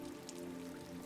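Soft, steady patter of rain falling in the Detroit: Become Human video game, a faint diffuse hiss with scattered droplet ticks, no voices.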